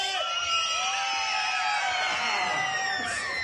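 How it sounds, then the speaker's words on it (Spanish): A large crowd of children at an outdoor Christmas lights inauguration shouts and screams together in one loud, sustained burst of high-pitched voices. "A la cuenta de tres me regalan un grito fuerte"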